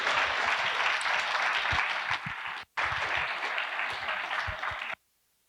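Sustained applause from a live comedy-show audience, dense and steady, broken by a brief cutout before resuming, then stopping abruptly.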